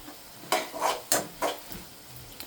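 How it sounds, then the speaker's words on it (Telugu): Onions frying in a pan while being stirred, with four or five close scraping strokes of a utensil against the pan over a faint sizzle. "ఉల్లిపాయలు బాగా వేగిపోయినాయి కదా"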